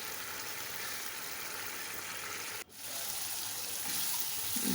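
Water pours steadily into a pan of spiced chickpea lentil and mince masala, a continuous hissing flow that briefly cuts out and then resumes, with no talking.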